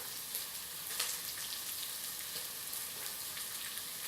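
Red onions frying in coconut oil with mustard seeds and curry leaves, giving a steady, dense crackling sizzle with scattered sharper pops and spatters throughout, close and alone with no talking.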